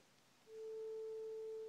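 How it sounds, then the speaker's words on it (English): A pure synthesizer sine tone switches on after a brief quiet moment and holds steady at a single pitch, loud and clean, with no talk over it. "We'll get a nice pure sine wave."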